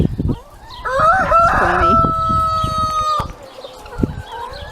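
Chickens cluck and a rooster crows loudly nearby in a backyard flock, with a brief remark from a person in the middle.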